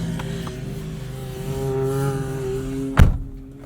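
A 2020 Toyota Tacoma TRD Offroad's engine churns through sand dunes, with a steady droning hum that rises slightly, then a sharp knock or thump near the end before fading back.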